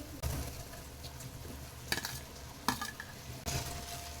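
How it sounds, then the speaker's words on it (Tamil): Fried raw banana pieces tipped into an onion-tomato masala in a pan and stirred, with soft sizzling and several distinct clinks and scrapes of a spoon against the pan over about four seconds. "இப்போ நம்ம வறுத்து வச்சிருக்கிற வாழைக்காயை சேர்த்துக்கலாம்."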